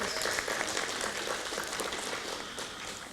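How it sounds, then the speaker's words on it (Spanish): Audience applause at a workshop on violence-free university life, a steady broadband patter of many hands filling the room at moderate volume, holding evenly for about three seconds without voices over it. "Un aplauso, por favor."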